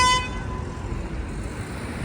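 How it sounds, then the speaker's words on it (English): A single short car horn toot near the start, then steady traffic rumble from a busy street in Paris. "Someone getting honked at."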